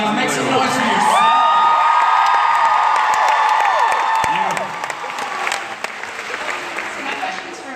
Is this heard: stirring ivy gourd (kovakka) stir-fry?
no